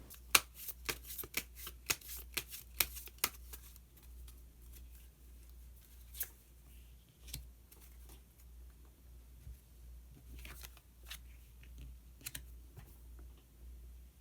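Tarot cards being shuffled and drawn up close: a quick run of crisp riffling clicks and snaps at the start, then sparser soft taps and slides as single cards are pulled, with no talking.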